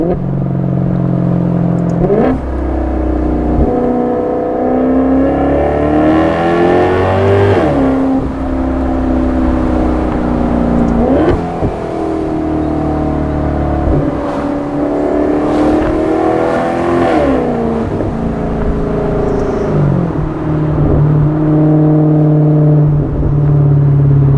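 A 2015 Maserati GranTurismo engine revs up and down repeatedly, climbing past 2,000 RPM with a loud, close, continuous throaty rumble and rising harmonic sweeps, no talk over it.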